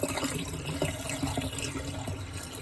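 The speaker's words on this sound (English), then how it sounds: "Again, just pour it right down the drain." Liquid is poured down the drain of an Airstream trailer, a brief, close gurgling splash and trickle running continuously into the pipe.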